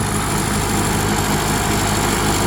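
A modified Mahindra 585 XP Plus turbo tractor engine runs in low gear with a loud, steady, close rumble that stays unbroken throughout.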